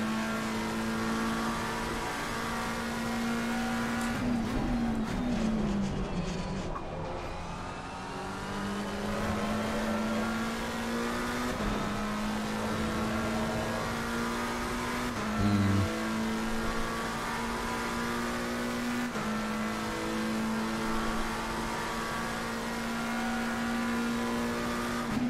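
A McLaren race car at Monza in Assetto Corsa Competizione drones loudly and steadily, its engine pitch climbing and dipping through gear changes, with a brief dip in revs partway through as it brakes and accelerates again.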